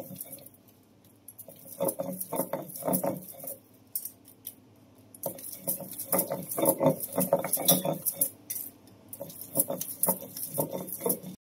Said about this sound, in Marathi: वाटते मी पाट्यावर